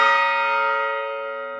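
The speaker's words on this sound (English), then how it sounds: "Loud bell." A large bell at a clock shop chiming event sounds one loud struck tone that rings on with a rich sustained hum, slowly fading without any talk.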